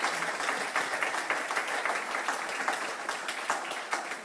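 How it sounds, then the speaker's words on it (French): Audience applause after a performance, dense sustained clapping from a crowd that carries on steadily, with faint voices underneath. "Est-ce qu'on peut les applaudir?"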